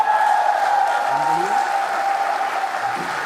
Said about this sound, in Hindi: एक बार सारे लोग हमारी अंतरिक्ष संस्था इसरो के लिए जोरदार तालियां बजाएं